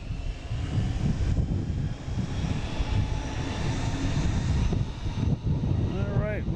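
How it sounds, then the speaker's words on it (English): A Cape Air Nantucket Air plane coming in drones with a loud, steady engine rumble mixed with wind buffeting, and a brief rising whine near the end. "I got the Cape Air, Nantucket Air coming in."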